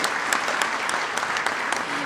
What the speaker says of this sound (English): would you please give them a round of applause for the hard work they do